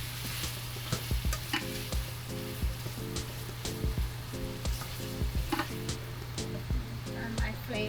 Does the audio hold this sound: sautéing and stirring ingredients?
yes